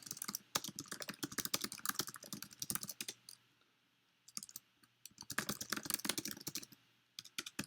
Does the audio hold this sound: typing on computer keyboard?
yes